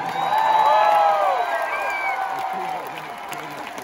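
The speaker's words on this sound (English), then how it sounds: "give them a big round of applause" A crowd at a concert at the Mississippi Coast Coliseum in Biloxi applauds and cheers loudly, with whoops rising above the clapping, then slowly fading.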